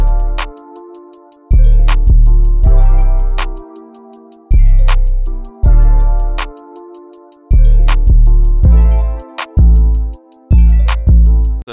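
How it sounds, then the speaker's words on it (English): Simple 808 bass pattern programmed in FL Studio for a trap beat, with deep booming bass notes in a sparse rhythmic pattern under a repeating high bell-like melody and hi-hat ticks, loud and clear with no talking. "lay down the 808 pattern, then put it all in the correct key"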